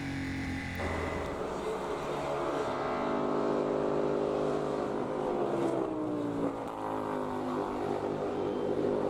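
F4 United States Championship single-seater race cars lapping at Canadian Tire Motorsport Park, their engines droning loudly and steadily while the pitch sweeps downward as cars pass, with no voices.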